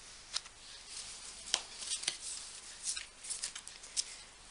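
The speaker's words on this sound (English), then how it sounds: "I'll just give these a shuffle and I'm picking out cards for" Magical Unicorns oracle card deck being shuffled by hand, a soft continuous riffling with scattered sharper flicks, close and fairly quiet.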